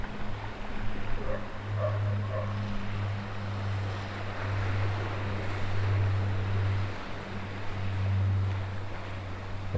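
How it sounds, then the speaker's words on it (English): Wind gusting steadily at a quiet coastal cove in Cornwall, with a broad rushing roar and low rumble that swells and eases throughout, close and fairly loud, no voices. "The wind's picking up a little bit."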